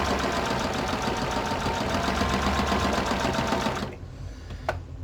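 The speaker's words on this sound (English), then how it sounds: "so I'm just doing a straight stitch" A sewing machine runs a steady straight stitch while making a book cover box: continuous, rapid, close mechanical whirring for about four seconds, then it stops, leaving a quiet room with one soft click.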